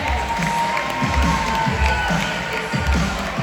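Crowd cheering and applauding at a live summer show at a theme park, loud and dense with whoops and shouts over continuous clapping, a thumping beat underneath.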